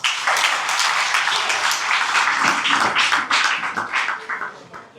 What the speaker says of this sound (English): Let's welcome them back to the audience with a round of applause